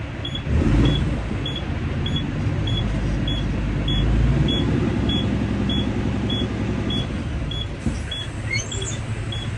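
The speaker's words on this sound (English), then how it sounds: "This truck, it don't stop beeping until 90." Low air pressure warning in a 600-horsepower diesel delivery truck, a steady series of regular beeps repeating about every half second over a loud engine rumble inside the cab.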